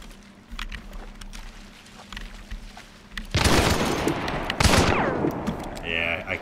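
Automat gun firing in the Hunt: Showdown video game, heard as loud bursts of rapid automatic fire in the second half, with softer game sounds and footsteps before them.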